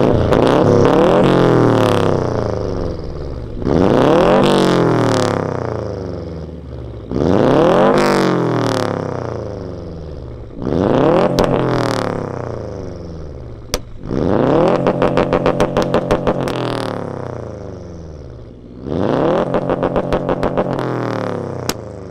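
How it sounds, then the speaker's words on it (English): A modified Subaru WRX STI exhaust fitted with a muffler and resonator revs loudly about six times in a steady rhythm, each rise and fall of the engine heard close and alone. "It's freaking extremely loud. Even with a muffler and a resonator, and it's still super loud for this car."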